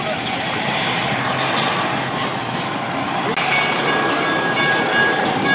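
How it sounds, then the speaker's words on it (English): An MTA Maryland light rail train rumbles past in Baltimore, a steady loud rolling roar with a faint high tone near the end. Voices talk over it. "MTA train."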